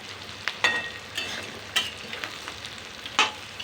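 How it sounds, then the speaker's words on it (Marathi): Fried soybeans being stirred into vegetables in a pan, a quiet background sizzle broken by several sharp spatula scrapes and clinks at irregular intervals, no talking. "आता याच्यामध्ये आपण हे फ्राय केलेले सोयाबीन टाकून घेऊयात. मस्त असे हलवून घ्यायचे."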